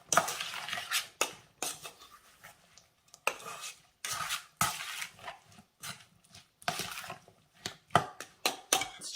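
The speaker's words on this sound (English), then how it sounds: "Mix this together." Fresh salsa of garden tomatoes and a pinch of sugar being stirred and mixed in a bowl, giving repeated short clinks and wet scraping strokes in an uneven rhythm, close and fairly quiet, with no talking.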